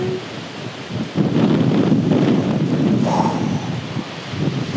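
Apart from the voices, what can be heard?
strong wind outdoors by a Scottish loch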